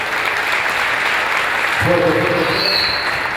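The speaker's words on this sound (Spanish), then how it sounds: "Fuerte el aplauso para Prometeo." Audience applause fills a lecture hall at the end of a scientific talk on climate and soil stress, a steady loud wash of clapping throughout, with a voice speaking over it near the end.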